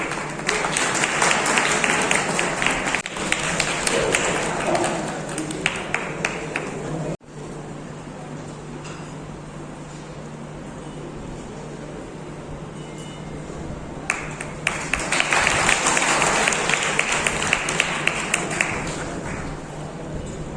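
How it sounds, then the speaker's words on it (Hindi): An audience at an academic-industry meeting session claps in two bursts, loud rolling applause at the start and again later, with a quieter stretch of steady hum between them. "तालियां बजा करके"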